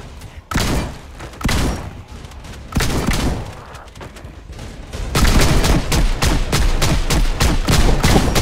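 An automatic gun fires in the video game Project Zomboid, with loud single shots spaced out at first and then a dense, rapid run of close gunfire.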